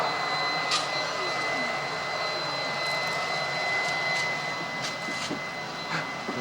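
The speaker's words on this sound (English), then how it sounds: "There he is, proud to vacuum." A vacuum runs during a swimming pool liner installation around 1990, a steady loud motor whine with a high pitched tone holding throughout, with faint occasional knocks and rustling.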